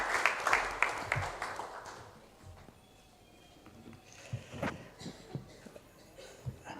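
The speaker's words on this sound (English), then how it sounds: "A huge round of applause." An audience at a live event applauds as a professor is welcomed on stage to give the vote of thanks. A burst of clapping fills the first two seconds, then fades to scattered faint taps and murmurs.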